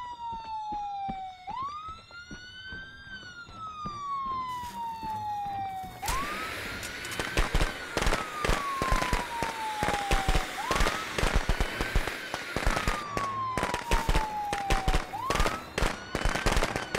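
Fireworks crackle and pop in rapid bursts during a night match of Friday the 13th: The Game, loud and close, layered over a wailing police-style siren that rises and falls throughout.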